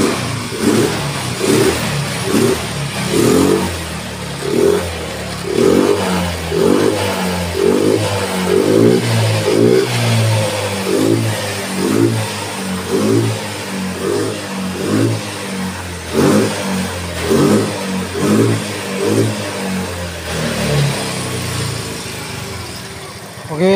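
A motorcycle or car engine is blipped repeatedly with quick throttle openings. The bursts come in a rapid, fairly even rhythm and stay loud and close throughout, with a voice talking over parts of it.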